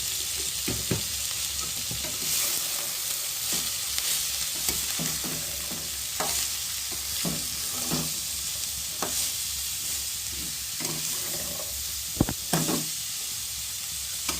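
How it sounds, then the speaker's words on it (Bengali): Vegetables with a pinch of turmeric, being made into Bengali-style veg chow, fry steadily in a pan, a close, continuous sizzle broken by frequent scraping and knocking strokes of a spatula stirring them. "নাড়তে নাড়তে এটা ভালোভাবেই ভাজা হয়ে এসছে।"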